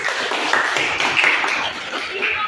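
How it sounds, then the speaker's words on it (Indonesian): Students clapping for group 1 in a classroom lesson, a steady crowd of hands filling the whole stretch at even volume. "tepuk tangan kelompok 1"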